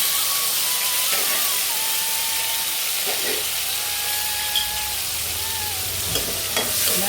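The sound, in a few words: tomato and kasuri methi frying in masala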